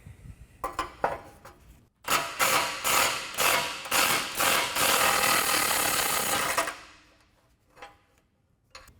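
A 15mm socket on a ratchet backs a bolt out of a 2011-2023 Dodge Challenger control arm, first with a few separate clicks, then a run of rapid rhythmic ratcheting bursts that blur into one loud, close, continuous rattle before stopping.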